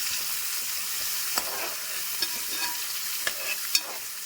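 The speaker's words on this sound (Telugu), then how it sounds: "ఆనియన్స్ అన్నీ వేసిస్తాం కలుపుదాం ఆనియన్స్ కొద్దిగా బ్రౌన్ కలర్ వచ్చేంత వరకు మనం వేసుదాం" Onions frying in a thick-bottomed cooker, a steady close sizzle punctuated by several sharp scrapes and knocks of a spoon stirring, with no voices.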